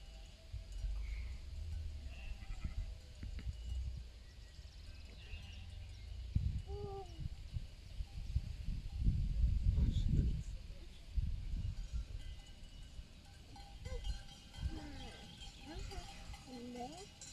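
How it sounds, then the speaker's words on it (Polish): A flock of sheep in the Zawoja hills, herded by dogs, bleats faintly from a distance amid a clinking patter of cowbells. People talk quietly nearby throughout, and the clanking swells briefly as the animals run. "Adaś, popatrz jak baranki biegną"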